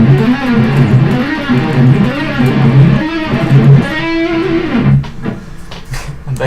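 Electric guitar sweep picking across four strings with added slides, rising and falling arpeggio shapes repeating in quick succession, loud and close, ending on a sustained note that trails off.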